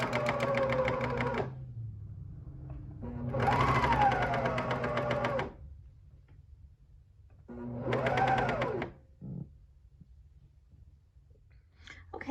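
Sewing machine stitching a shoulder seam on a garment: three motor whirring runs of about one to two seconds each, close and clear, separated by quiet pauses and small clicks.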